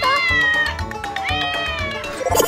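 Kittens meowing, high repeated mews overlapping one another in a continuous close chorus, growing louder and shriller at the end.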